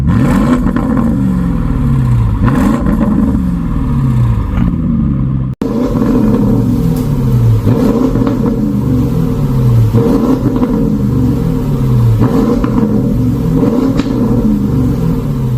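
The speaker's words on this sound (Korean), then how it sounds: "와 배기음 진짜 멋있게 잘 나옵니다" A Porsche Cayenne Turbo GT's Akrapovič exhaust revs repeatedly, each throttle blip rising to a deep growl and falling back to a rumbling idle, loud and close.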